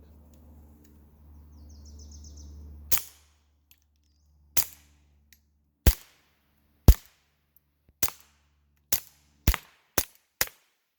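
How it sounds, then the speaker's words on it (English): A suppressed pistol fires subsonic rounds about eight times at irregular intervals. Each sharp crack is followed by the loud smack of the bullet striking the target, with a low hum and faint chirps before the first shot. "The loudest noise is the target getting hit by the bullet, but certainly subsonic does make a difference."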